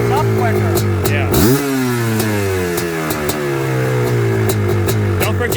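A Suzuki Quadzilla LT500R ATV engine, freshly rejetted and not yet warm, revs sharply up to a high wail near at hand and then settles into a long, loud, slowly falling drone.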